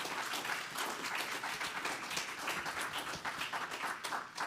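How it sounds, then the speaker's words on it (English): Sustained applause from an audience at a poetry reading, dense steady clapping filling the room at even loudness for several seconds with no voices over it. "Let's have one more round of applause for both of our poets here tonight."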